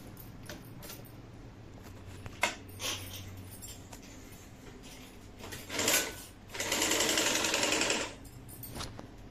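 A sewing machine stitches net cloth for a blouse in short quiet runs, then a louder sustained burst of rapid needle chatter near the end, against a low steady hum.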